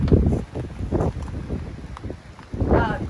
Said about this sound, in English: That was a really, really big gust of wind.